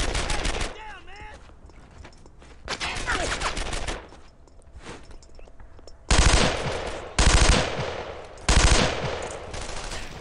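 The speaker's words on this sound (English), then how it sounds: "as I get shot at with very large guns" Heavy gunfire in the World War II shooter Brothers in Arms: Earned in Blood, with long rattling machine-gun bursts alternating with quieter gaps and three loud, close volleys toward the end.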